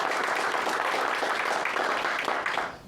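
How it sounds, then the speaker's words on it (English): Audience applause for three graduates of a court program, with a dense, steady patter of many hands clapping that continues throughout and fades slightly at the end. "Big round of applause there."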